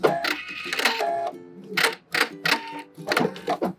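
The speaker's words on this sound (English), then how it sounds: "Back stitch at the end and cut." Sewing machine back stitching a dress seam, short mechanical bursts of stitching that start and stop in quick runs, close and fairly loud with brief pauses between.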